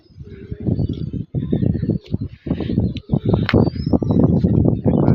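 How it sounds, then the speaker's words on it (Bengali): Pigeons rain-soaked after a morning of wet weather coo in repeated low, throaty phrases close by, loud and nearly continuous with short pauses. "আর পায়রাগুলোর কী অবস্থা চলো দেখাই।"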